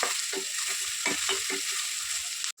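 Onions frying in a pan for a village-style tamarind-leaf chicken curry, a steady hiss of sizzling oil with soft scraping stirs, close and alone until a brief cut at the end.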